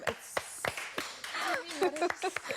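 Scattered hand claps in a live television studio, a few sharp, distinct slaps spaced irregularly, with a voice speaking briefly among them.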